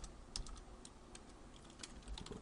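Code is typed on a computer keyboard: quick, close clicks and taps come in an uneven run of keystrokes, fairly quiet and with no voice over them.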